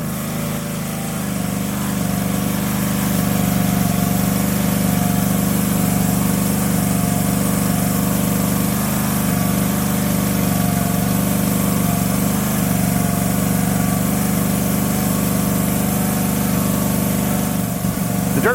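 Gas-engine pressure washer running steadily while cleaning a driveway with a Karcher Dirt Blaster rotary nozzle, a loud constant engine drone with a hiss of spray, no pauses, with no voices.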